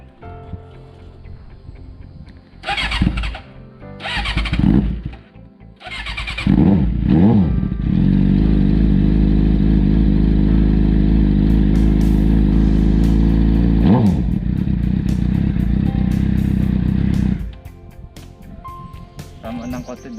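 Suzuki GSX-R600 motorcycle running without its dB killer, a few sharp revs followed by a loud sustained high-rpm roar that drops back to idle, close by, with someone talking at times.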